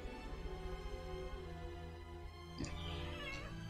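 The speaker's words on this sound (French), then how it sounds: "Miaou!" A cat meows against a steady bed of game music and sound effects, with a short, bright meow standing out near the end of the passage.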